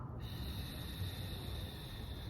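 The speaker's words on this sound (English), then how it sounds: "exhale like you're blowing through a straw" A long, steady breath forced out through narrowed lips, making an even, breathy hiss close up.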